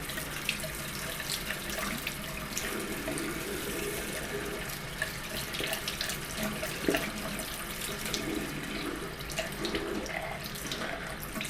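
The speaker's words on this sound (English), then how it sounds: "We've got the warm water all running" Warm water runs steadily from a tap into a sink, a continuous close hiss and splash at moderate volume with no break, prepared for bathing a baby bantam chick.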